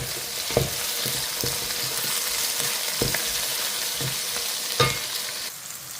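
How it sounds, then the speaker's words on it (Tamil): Chopped brinjal sautéing in a hot pan, a continuous oily sizzle broken by several knocks and scrapes of a spatula stirring the pieces, close and steady with no talking. "இங்கே கத்திரிக்காய் கட்டி போட்டு வதங்கி"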